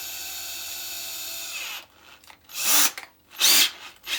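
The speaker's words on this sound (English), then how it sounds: "it's just a case of drilling that out" A power drill whirs, then stops, followed by two sharp bursts of drilling out a part of a Ford Fiesta ST150 gear linkage in a tight space, with brief pauses between, close and loud.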